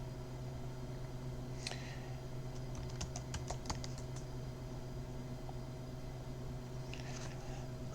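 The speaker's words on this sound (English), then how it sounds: "Be careful typing that in." Computer keyboard typing at a Linux command prompt: a short burst of quick close key clicks over a steady low hum, with a couple of isolated taps before and after and no speech.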